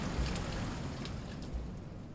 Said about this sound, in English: the gentle, consistent sound of rain outside